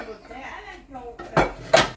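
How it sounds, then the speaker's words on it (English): Dishes, pots and pans clatter and clink while being washed in a home kitchen during cooking, with soft handling sounds first, then two loud, close crashes of cookware near the end. "I've been doing dishes and keeping up with it"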